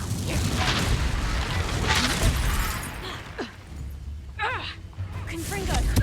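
A Confringo fire spell bursting in the video game Hogwarts Legacy, with a couple of loud explosive blasts early on, followed by voices and in-game chatter.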